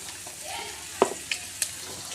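Eggs frying in a pan for an egg curry, a soft sizzle punctuated by a few sharp scrapes or taps over about two seconds.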